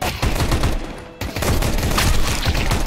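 Rapid, loud bursts of automatic gunfire crack continuously in a Counter-Strike 2 match, with a brief dip before the shooting resumes at close range.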